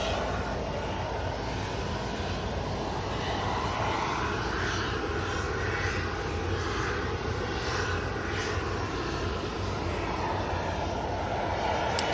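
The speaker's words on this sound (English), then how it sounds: "So, where is this Ryanair Max go off to?" Ryanair Boeing 737 MAX jet at Manchester airport after rain, its broad engine roar loud and continuous across the whole stretch with faint speech underneath.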